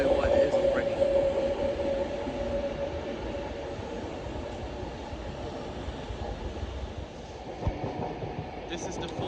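A class 390 Avanti West Coast passenger train, the 14:10 service to Glasgow Central, passes at Primrose Hill with a low rumble and faint rail clatter under steady noise, plus a brief tonal hum early on.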